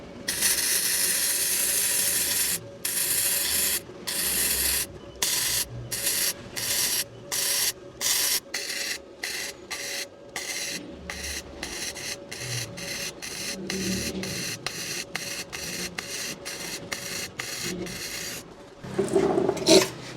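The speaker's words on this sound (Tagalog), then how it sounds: "Lagay natin sa 70. Tapos weldingan natin top." MIG welding with a Kusama 2-in-1 MIG/MMA welding machine: a long series of loud, crackling, hissing bursts that start steady, then break into short rhythmic pulses a fraction of a second apart, ending with a brief rougher spurt, with no talk.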